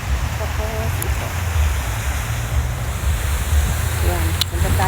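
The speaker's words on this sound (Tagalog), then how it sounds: "Punta tayo dito sa fountain na wah, grabe yung tubig niya." Water from a fountain at Yamashita Park in Yokohama rushes and splashes in a steady broadband wash, with wind buffeting the microphone and brief faint sounds around it.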